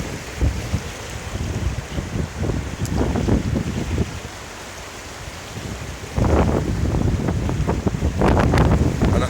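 Fast-flowing floodwater rushes and churns in a continuous broad roar outdoors during flooding in Monifieth, buffeted by wind noise on the microphone, growing louder partway through.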